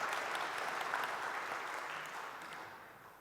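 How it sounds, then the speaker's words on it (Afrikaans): Church congregation applauding for an elderly member's 91st birthday, a dense, continuous clapping from many hands in a hall that fades slightly toward the end, with no talk over it. "So kom ons klap sommer lekker hande vir Tannie Judy wat verjaar."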